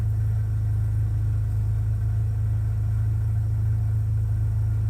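Car engine idling through a loud, droning muffler on an Illinois storm chase, a steady deep rumble that holds unchanged throughout, close and constant with no voices.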